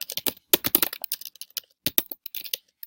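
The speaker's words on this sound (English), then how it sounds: "I'm going to type my image description" Someone types an image description on a computer keyboard, a close, quick run of crisp key clicks in irregular bursts with short pauses, no voices.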